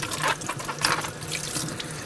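Tap water runs into a sink as apples are rinsed under it, a close, continuous splashing that shifts and gurgles while the fruit is turned in the stream.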